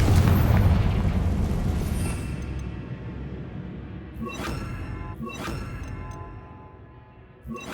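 A Confringo blasting spell explodes in Hogwarts Legacy with a loud, broad boom that opens the clip and fades into a rumbling tail, followed by two sharp crackling bursts of combat.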